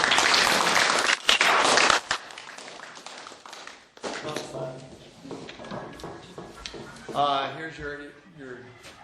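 Cadets at Embry-Riddle (ERAU) give a fellow cadet a round of applause. A loud burst of close, dense clapping lasts about two seconds, then fades into people talking in the room.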